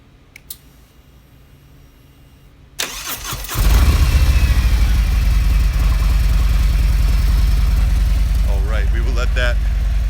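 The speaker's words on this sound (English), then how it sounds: "We'll get the engine started." A 2017 Harley-Davidson Road Glide Ultra motorcycle cranks over after a few clicks and catches into a loud, steady, close idle that rumbles on unbroken, with someone talking briefly over it.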